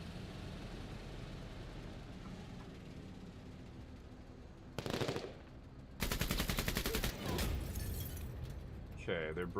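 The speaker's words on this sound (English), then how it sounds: "Autocannon team taking shots." Autocannon fire in a tabletop-style strategy video game, bursts of rapid rattling shots that kick in sharply partway through and keep hammering over a steady background rumble.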